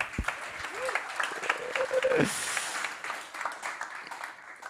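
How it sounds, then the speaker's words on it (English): An audience at a young innovator awards live stream claps for itself, a moderate wash of applause under a presenter's voice and a brief musical tone, fading gradually over a few seconds. "Give yourselves an applause."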